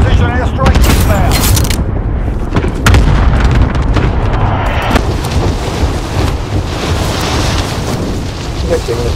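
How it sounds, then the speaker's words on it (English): A cluster airstrike in Warzone 2 pounds down as a series of loud, booming explosions with rumbling tails, interrupted by sharp impacts and mixed with game radio chatter. "Calling for airstrike on my target. Loaded 2-0. Good copy. Cluster strike away."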